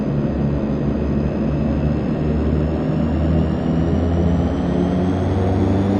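A DHC-6 Twin Otter propeller plane taxis in the FSX flight simulator, its steady, loud engine drone and low rumble holding continuously throughout with no talking.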